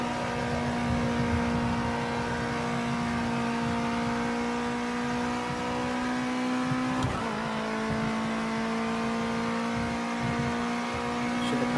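A Ginetta G40 Junior race car engine in Project Cars 2 holds a steady, loud, buzzing drone at near-constant revs, with a brief lift and a small dip in pitch partway through, close and uninterrupted.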